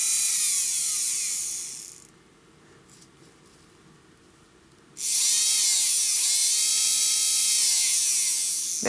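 A rebuilt Le Mans 360ST electric motor spinning on a bench test with a high, shrill whine, cutting out for about three seconds, then spinning up again and holding steady, close and loud.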